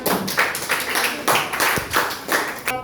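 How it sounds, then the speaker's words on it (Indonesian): A class claps for a student group in a series of rhythmic bursts of hand claps, moderately loud in a room, with no talk over them. "Tepuk tangan buat kelompok 3"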